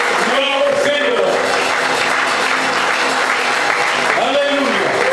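A church congregation applauds and acclaims the Lord at a convention gathering, with sustained clapping filling the hall while a voice calls out over the crowd.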